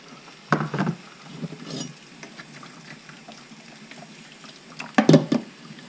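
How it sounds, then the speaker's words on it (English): Boiling water splashes and pours in two short bursts to rinse starch off food, a quick gush near the start and another toward the end, with quiet kitchen clatter between. "I'm going to get the boiling water, run it through, take all the starch off"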